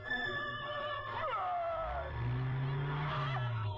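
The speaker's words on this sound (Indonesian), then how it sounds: "Saat ini sebuah truk lewat." Motor vehicle passing on a road at night, a loud close engine roar with a falling pitch sweep as it goes by, alongside a tense film soundtrack tone.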